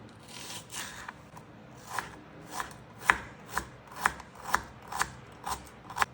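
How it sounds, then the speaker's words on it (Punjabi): Knife chopping thinly through onions lengthwise on a cutting board, a steady run of about a dozen crisp, close taps at a quick rhythm with no talking. "ਪਿਆਜ਼ ਨੂੰ ਅਸੀਂ ਲੰਬਾਈ ਦੇ ਵਿੱਚ ਪਤਲਾ ਪਤਲਾ ਕੱਟ ਲੈਨੇ"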